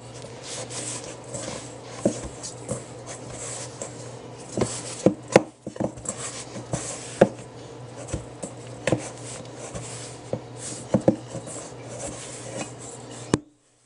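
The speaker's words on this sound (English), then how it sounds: "I'm just going to keep rolling it and pressing it like so until I have everything come together." Pie crust dough being rolled and pressed together by hand into a ball on a work surface, giving soft repeated thumps and rubbing sounds with scattered sharper taps, close up and steady, with no talking.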